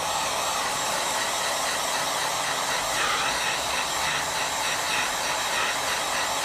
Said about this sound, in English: We always recommend you use a hair dryer.